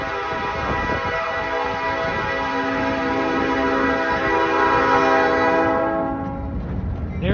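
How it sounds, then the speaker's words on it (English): Locomotive 2216 hauls an Indiana Christmas excursion train into the station, its horn blaring as a loud, sustained chord over steady rumbling, with faint talk in the background. The horn cuts off near the end as the train noise continues. "There's 2216 pulling the train in."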